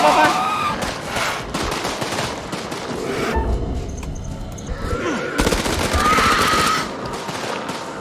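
Gunfire in the video game Dark Pictures: House of Ashes, dense rapid automatic bursts and scattered shots mixed with chaotic game noise, loud and close, with a brief lull in the middle before firing resumes.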